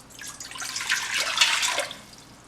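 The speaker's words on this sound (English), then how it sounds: "we need to pour a 3 cups of water into an inner pot" Water pours into the inner pot of an Instant Pot Duo Evo Plus pressure cooker, a bright splashing stream that swells and then tapers off over a couple of seconds, close and alone.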